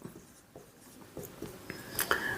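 A pen scratches out a formula on paper in short, close strokes and taps, a brief burst of writing with no voice over it.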